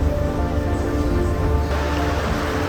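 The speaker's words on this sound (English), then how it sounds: "so it just started to rain a lot here" Heavy rain pours onto a boat on the Amazon, a dense steady roar of drops that stays constant and loud throughout, with no voices.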